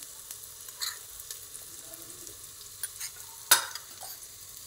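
A spoon stirs biryani masala and chili-ginger-garlic paste through pulao in a pan. Scattered scrapes and clinks sit over a soft, steady sizzle, with one sharper metallic knock standing out.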